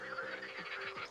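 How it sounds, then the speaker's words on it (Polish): Frogs croak in the background in the Romanian countryside, a soft rhythmic chorus of repeated calls, faint and steady over the short stretch. "Słyszycie te żaby w tle?"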